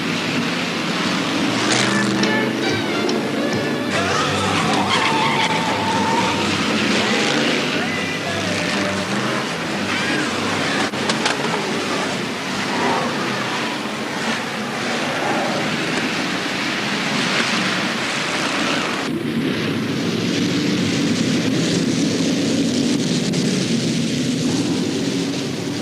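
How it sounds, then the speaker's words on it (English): Formula One stock cars race in a rough, noisy contest, a continuous roar of engines and rumbling with splashy, hissing texture, heard at a distance with some talking mixed in. "that's Stu Smith taking part in the rough and tumble of Formula One stock car racing"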